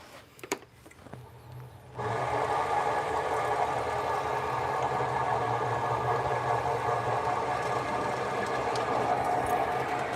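Wood lathe at about 600 RPM cutting a hollow form, a steady humming drone with a broadband cutting rasp that starts abruptly after two seconds of quieter knocks and carries on evenly to the end.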